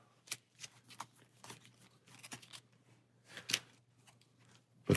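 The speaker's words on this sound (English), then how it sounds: "Iron Man will be drawing 5 cards now" Cards drawn and handled during a Marvel Champions card game: a scattered run of soft papery flicks and slides, close and quiet, with one sharper snap near the end and no voices.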